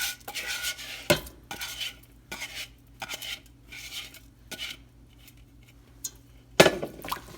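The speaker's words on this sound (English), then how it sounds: "So give it a stir, cover and bring it to a rapid boil" A spoon stirs basmati vegetable pilau rice in a pot, giving close, rhythmic scraping strokes with light metal clinks and a sharper clank near the end.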